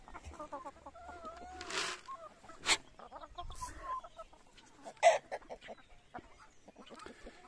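Chickens cluck and call in a henhouse, with scattered rising squawks and short clucks at varying distances, one sharper cry standing out partway through, no talking.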